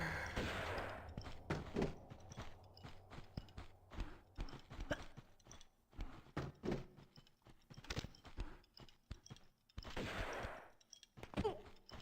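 Bursts of gunfire in the Tomb Raider remastered game, rapid sharp cracks in uneven clusters across the clip, with several dense louder volleys near the start and again near the end.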